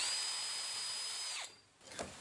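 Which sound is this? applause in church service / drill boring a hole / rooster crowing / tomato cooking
drill boring a hole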